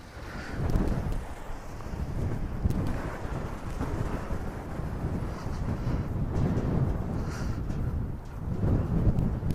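Strong, gusty wind buffets the microphone in heavy low rumbling bursts while an SG906 Beast Pro or Holy Stone HS720E drone flies. The roar swells and eases continuously, with no talking.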